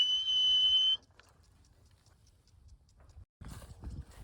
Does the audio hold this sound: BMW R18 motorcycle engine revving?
no